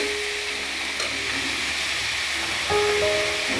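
Food being stirred in a hot cooking pan, a continuous sizzling hiss with scraping movement, close and fairly loud, no speech.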